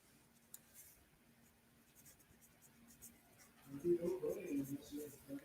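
A pen scratches out notes during a math lesson on the tangent function. The faint, soft strokes are close by and come in short bursts, with a low voice murmuring toward the end.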